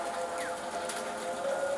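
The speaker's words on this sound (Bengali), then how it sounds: "দেখতেই পারতেছেন বৃষ্টি পড়তেছে।" Light rain falling outdoors, a faint, steady patter-like hiss with a thin tonal hum and a brief chirp over it, heard from a distance.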